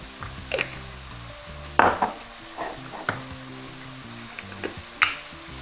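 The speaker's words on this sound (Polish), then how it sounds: "Kapustę pięknie się dusi." Cabbage for chicken bigos stews in a pan with a soft steady sizzle, broken by a few clinks and scrapes as it is stirred.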